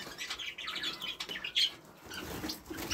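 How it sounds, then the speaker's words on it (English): Pet canaries, including a male fife canary and females, chirp and trill in quick bright bursts close by, steady birdsong filling the short stretch with no talking. "So, as you can see, we've got two canaries in here."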